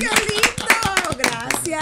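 Studio applause in a small broadcast booth: a few people clap in quick, uneven bursts close to the microphone while voices talk and laugh over the claps.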